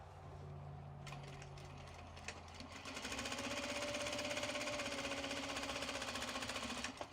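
A sewing machine stitches the body of a reversible bag made from Japanese fabric. The motor hums softly at first, then runs into a close, rapid, even chatter of stitching that continues to the end, with no talking.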